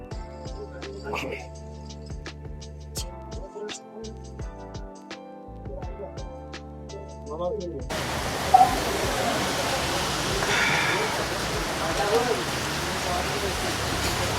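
Steady monsoon rain hisses across the second half, following quieter tonal background sounds with a few clinks; no one speaks. Lonavala, India.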